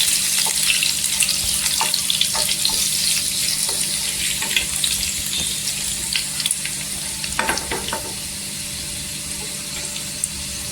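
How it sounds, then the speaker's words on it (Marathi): Brinjal frying in a pan on a gas stove gives a loud, continuous hissing sizzle with scattered crackles and a few clattering stirs, plus a low steady hum underneath. "आपण वांगी टाकून घ्यायची गॅसवर परतून घेतलेला आहे"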